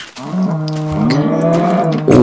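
A Minecraft cow moos loudly and close, a single long drawn-out low call lasting about two seconds, followed by a short second sound at the end.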